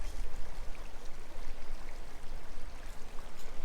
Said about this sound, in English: That's an amazing creek.